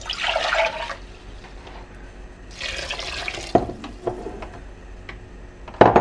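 Water is poured from a container into a pot of Scotch broth soup, two close splashing gushes with quieter trickling and clinks between them.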